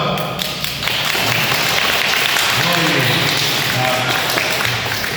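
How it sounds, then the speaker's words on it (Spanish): Guests at a baptism applaud in a broad, steady wash of clapping that fills the room, with a voice briefly speaking over it. "darle un aplauso."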